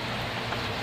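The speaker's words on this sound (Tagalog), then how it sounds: "umuulan guys, talagang umuulan" Steady hiss of rain falling, dense and even, with no voices.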